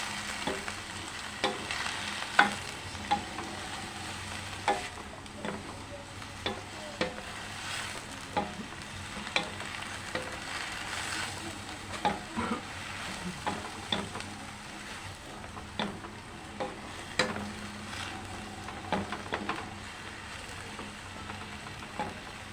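Pechay (Chinese cabbage) sizzles and fries in a pan with a continuous crackle, broken by regular scraping and clinking as it is stirred and tossed. No one speaks.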